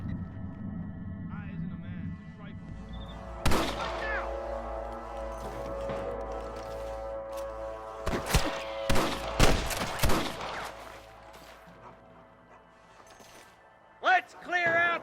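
Rapid gunfire in the Red Dead Redemption video game, with a steady hum of shots followed by several loud, sharp cracks in a cluster and a final burst, while voices shout in the background.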